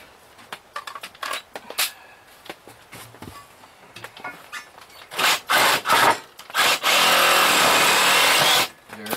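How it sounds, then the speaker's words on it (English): A reciprocating saw cuts through an old barn wood post, loud buzzing bursts that swell into a sustained grinding cut near the end, with scattered knocks and handling clatter before it. "Now the reciprocating saw, and I'm gonna have myself a post."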